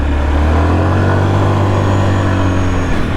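An old, revived Kodiak 400 ATV engine drones loudly and steadily under throttle, a close, rough mechanical roar held for a few seconds.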